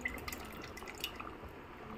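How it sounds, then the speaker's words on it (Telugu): Tamarind juice poured into a pan for a fish curry, a soft, close trickle and drip of liquid lasting a couple of seconds. "తీసుకొని చింతపండు పులుసు వేసుకోవాలండి."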